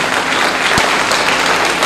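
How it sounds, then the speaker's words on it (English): An audience at a public sector banking talk gives a round of applause, a brief, loud, continuous wash of clapping lasting about two seconds with no speech. "Give a round of applause."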